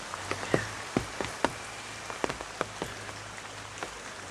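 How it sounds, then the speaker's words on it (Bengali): Rain starting in a village in Bangladesh: scattered raindrops tap irregularly on a surface, a light patter with a few sharper close drops over a faint low hum. "আবার মনে হচ্ছে বৃষ্টি শুরু হয়ে যাচ্ছে"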